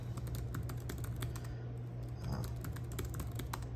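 Keys clicking on a computer keyboard as a passphrase is entered, a quiet, close run of quick irregular taps over a low steady hum, no voices.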